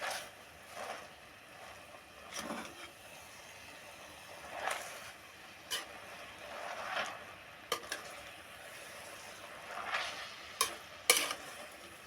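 Kalagura mixed greens curry is stirred in a pan with a spoon, giving soft scraping strokes at an uneven pace over a low, steady sizzle, close and fairly quiet.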